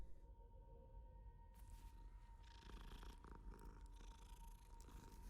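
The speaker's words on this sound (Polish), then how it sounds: "Kota zawsze trzeba pogłaskać." A cat purrs steadily in the Hogwarts Legacy video game as it is petted, a soft continuous rumble with faint game ambience and a few light background sounds layered over it.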